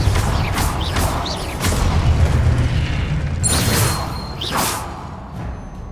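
The Confringo fire spell bursts in the Hogwarts Legacy video game, a series of heavy, rumbling booms and whooshing blasts close by, rolling into one another before fading.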